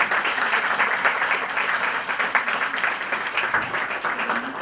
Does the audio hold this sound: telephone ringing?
no